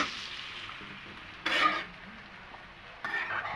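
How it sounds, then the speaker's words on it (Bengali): Fried hilsa fish pieces (tail, head and roe) stirred with fried potatoes and onions in a pan, a steady soft sizzle broken by two louder scraping stirs of a spoon against the pan. "এখন ভেজে রাখা মাছগুলি দিয়ে দেব এখন এটাকে সুন্দর করে নেড়ে ছেড়ে নেব"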